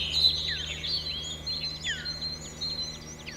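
Several birds chirp and trill in quick, scattered bursts in theHunter: Call of the Wild during a duck hunt, the calls fairly close over a low steady ambient hum, with no talking.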